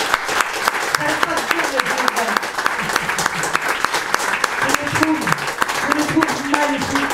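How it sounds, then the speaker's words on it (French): A church congregation applauds visiting singers, with many sharp individual claps over a steady crowd clapping, and voices talking and calling out over it throughout. "on les applaudit."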